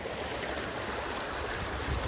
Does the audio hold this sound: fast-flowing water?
yes